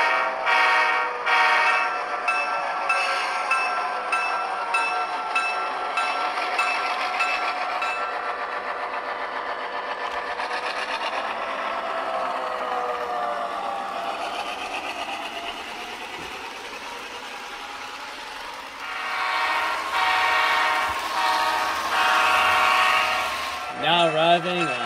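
Model diesel locomotive on a hobby layout, its sound unit giving a steady engine drone with rising and falling tones, then a brief horn-like blast near the end; no one talks over it.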